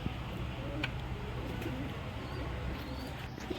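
Pigeons coo softly near a rooftop loft used for pigeon racing, a steady low murmur of calls running throughout over faint background hum, with no talking.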